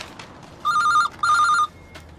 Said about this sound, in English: Brem, what are you doing ringing on this number?